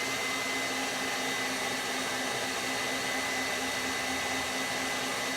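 Stand mixer running at its highest speed whipping meringue, a steady loud continuous whirring drone with no breaks.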